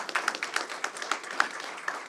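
Audience applause for health security startups at the BioChallenge 2024 event, a thin scattering of claps with distinct sharp hand strikes standing out over a soft continuous patter.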